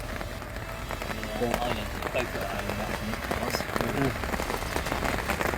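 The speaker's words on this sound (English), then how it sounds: "Rain is good for fishing." Steady rain patters across the water and nearby surfaces during a fishing session, a dense broadband hiss running throughout at a fairly constant level, with faint voices and small bumps of activity mixed in.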